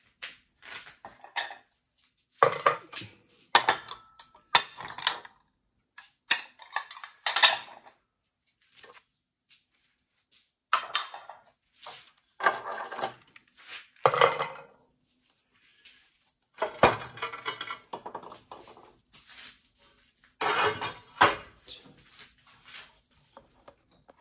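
Ceramic plates fired at 1250 degrees clink and clatter in short bursts as they are lifted out of a kiln, including a small dish about 15 cm across. The bright knocks are close and separated by brief quiet gaps.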